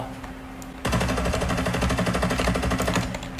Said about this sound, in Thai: ลองปืนนี้ดูบ้าง โอ้ยเสียงพอปืนนี้ เสียงพอ